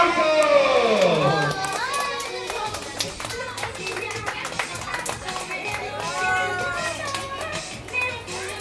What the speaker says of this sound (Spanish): Y fuerte el aplauso.